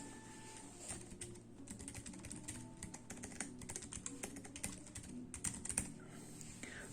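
Someone types steadily on a Keychron K3 mechanical keyboard, producing a quiet, continuous patter of close keystrokes with occasional louder clacks, alone without talk.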